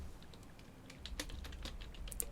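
Computer keyboard keys tapped in a quick, uneven run of light clicks, fairly close and alone, with a soft low hum underneath.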